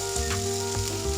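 Pork meat frying in oil in a pan, a close, continuous sizzle with a couple of soft stirring scrapes over a brief moment.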